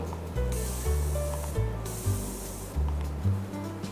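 A water spray bottle mists bread dough for sweet rolls before baking, giving several quick hissing bursts in an uneven rhythm over faint low background music, close to the microphone.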